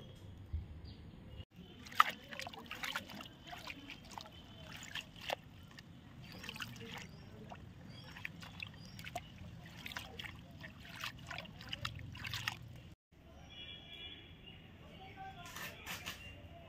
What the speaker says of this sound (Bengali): এবার একটু ধুয়ে নেব, জল দিয়ে ভালো করে পরিষ্কার করে ধুয়ে নিতে হবে।